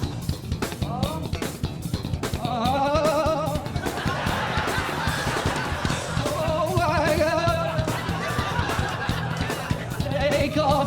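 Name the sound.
voice imitating an oscillating fan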